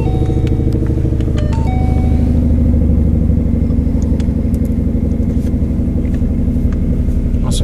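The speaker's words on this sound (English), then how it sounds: "The tuning is amazing with the Roush performance exhaust installed." A 2014 Roush Stage 2 Ford Mustang with a Roush performance exhaust rumbles steadily nearby, a loud, deep idle with a rough pulsing beat that holds throughout, with no one talking.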